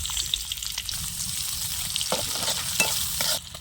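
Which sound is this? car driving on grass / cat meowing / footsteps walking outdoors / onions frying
onions frying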